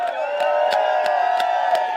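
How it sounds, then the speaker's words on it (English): A soccer crowd at a high school boys' match cheers a substituted player, a continuous roar of voices with rhythmic sharp claps or stomps coming through at regular intervals. "he receives a tremendous applause for his work in setting up a goal"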